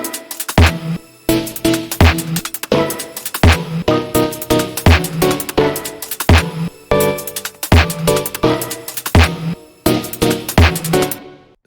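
A lo-fi hip-hop track opens with heavy, punchy drum hits and a thick layered bed of sound design textures, pulsing in a steady loping groove at a loud level with no voices.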